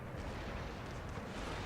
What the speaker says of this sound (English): Cannons are actually hitting my cavalry here.